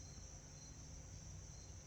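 A single cricket chirps steadily and continuously at night, faint and distant, with no voices.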